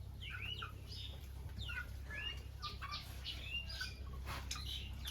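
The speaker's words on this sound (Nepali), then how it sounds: "कुखुराहरू के भएको" Chickens cluck repeatedly in a Nepali village, with several short, fairly faint calls scattered over a low, steady background hum.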